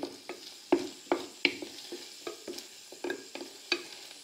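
Coquillettes pasta warming in butter in a pan over low heat, a quiet run of repeated stirring clicks and scrapes over a faint sizzle, close and fairly gentle.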